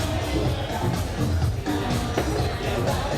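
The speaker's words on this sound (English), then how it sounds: "Good crowd here." A gathered crowd at a climbing competition semi-final, a steady dense murmur of many voices with faint calls, filling the whole moment at an even level.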